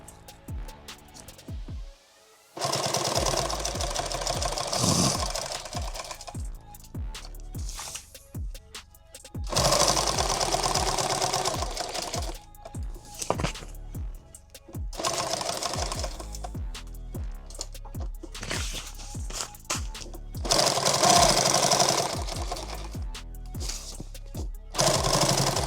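Industrial sewing machine stitching a six-magazine pistol pack, running in loud bursts of several seconds separated by short pauses, with a steady mechanical rattle.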